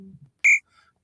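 A voice imitates a cricket chirping: a brief low murmur, then one short, bright, whistle-like chirp, trailed by a faint, thinner echo of the tone.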